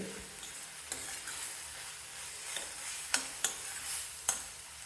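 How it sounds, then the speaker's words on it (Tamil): Spices sizzle and fry gently in hot oil, with a steady crackling hiss and a few sharp scrapes of a spoon against the pan. "இது வந்து ஒரு பச்சை வாசனை போகிற வரைக்கும் லைட்டாக இப்படி வதக்கிட்டு"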